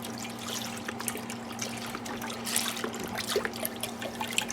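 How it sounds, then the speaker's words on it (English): A 48-ounce carton of beef broth poured into a crock pot makes a steady, close trickle and splash of liquid that runs continuously. "I'm gonna add in some broth. This is a 48-ounce beef broth."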